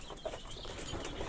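Laying hens in a backyard coop cluck softly in short, faint bursts at a moderate distance.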